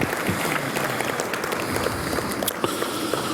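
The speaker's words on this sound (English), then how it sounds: "So a big round of applause for our staff and our team for having done that" Luncheon guests at a California business gathering applaud the staff and team, a thick continuous clapping texture at moderate loudness throughout, with no talk over it.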